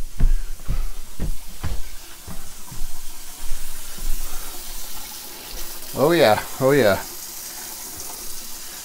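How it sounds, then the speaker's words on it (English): Hot water from a newly installed tankless heater runs steadily from a tap with splashing and a few knocks, while a person briefly exclaims partway through. "We got hot water here."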